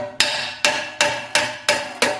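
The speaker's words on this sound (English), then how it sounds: "I'm going to take my ball peen hammer" A ball peen hammer strikes the edge of a steel exhaust flange on a rat rod, six loud ringing metallic blows at a steady, evenly spaced rhythm, each with a short decaying ring.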